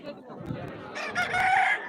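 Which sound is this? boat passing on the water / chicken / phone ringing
chicken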